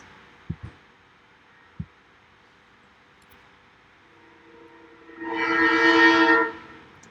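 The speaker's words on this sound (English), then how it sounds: "Train's coming for ya. Rails train." A train sound effect plays: a loud, sustained horn blast swells near the end. Before it come a few sharp knocks and a low hum.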